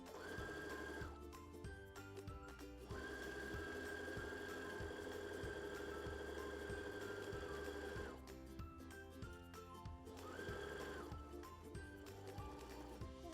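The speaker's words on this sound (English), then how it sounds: "we're just gonna sew down that side again, watching the side of the foot just like we did last time" A sewing machine stitches down the side seam of a pillowcase, its fast rhythmic whirring running in long steady bursts with short stops between, heard close and alone.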